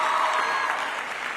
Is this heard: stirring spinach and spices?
no